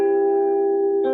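A single sustained major chord on guitar rings out steadily, bright and clear, then changes near the end as a new note is struck.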